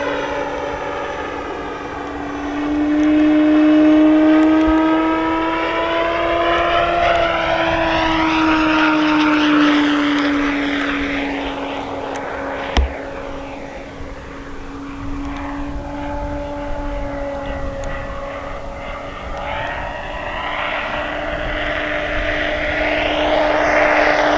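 An E-flite Carbon-Z T-28 radio-controlled model airplane flying by, its electric propeller droning with a steady tone that swells and fades as it passes overhead, one sharp click midway, no voices.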